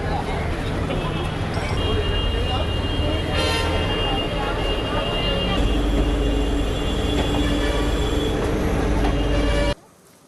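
A train rumbles and clatters through Dehiwala railway station, with wheel noise and a murmur of voices, loud and continuous before cutting off abruptly.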